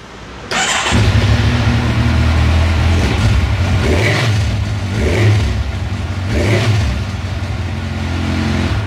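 A Kawasaki motorcycle with its stock exhaust starts up close by, then idles with a deep rumble, revving several times in rising and falling bursts.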